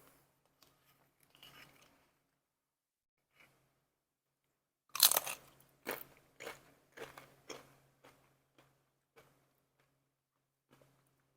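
A tortilla chip dipped in homemade roasted salsa gets bitten with a loud, sharp crunch, followed by a run of close, rhythmic chewing crunches that fade out, with quiet handling sounds before.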